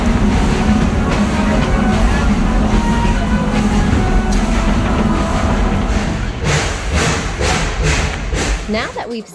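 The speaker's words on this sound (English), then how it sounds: "we take a ride on the steam train" A steam train rumbles steadily along with a heavy, continuous mechanical roar and rhythmic clanking, close and loud.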